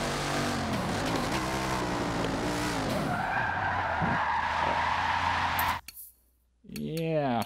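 A 1400-horsepower race car in Forza Motorsport 7 howls at around 150 mph with engine roar and tyre skid, over a voice talking; the sound cuts out briefly near the end before engine tone returns.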